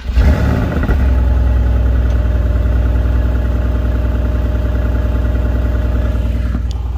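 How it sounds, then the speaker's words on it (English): A Mercedes-AMG GT R engine idles with a deep, steady exhaust rumble, loud and close, holding an even burble throughout with a slight flutter. "let's get the exhaust note and let's get on the ride"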